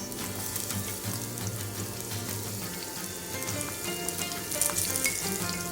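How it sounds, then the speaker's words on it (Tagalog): Garlic bits frying in a little oil in a heated pan, a steady close crackling sizzle that holds evenly throughout and brightens slightly near the end. "And then we fry our garlic bits."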